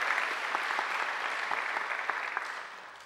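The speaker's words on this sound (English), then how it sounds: "I think they deserve a great round of applause too." Steady applause from a graduation ceremony audience, a dense wash of many hands clapping that holds evenly for about three seconds before easing slightly toward the end.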